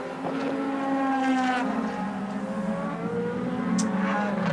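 A DTM race car pounds around the 3.9-kilometre Moscow circuit, its engine wailing up and down through gear changes in loud onboard sound, with no voices.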